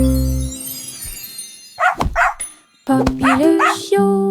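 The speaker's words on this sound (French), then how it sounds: "Elle a couru après sa queue et a finalement aboyé." A playful puppy barks in two short bursts of sharp yips and barks, close and fairly loud, separated by brief quiet gaps.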